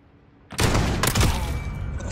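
Loud, dense automatic gunfire from the shooter game Modern Warfare starts abruptly after a short quiet lead-in, then keeps going as a sustained burst of overlapping shots up close.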